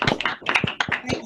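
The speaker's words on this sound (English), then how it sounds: "give Andrew and Amy a lovely round of applause" A few scattered hand claps, thin and uneven, sounding compressed as if heard over a video call during an online talk on growing potatoes.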